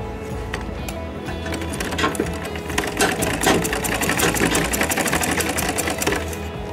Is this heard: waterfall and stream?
no